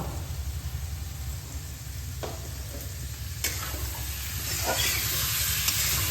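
Dry spices sizzling and frying in a pan with a little water while being stirred, for Bengali-style kolmi saag fry; a continuous hiss with a low rumble, swelling louder toward the end.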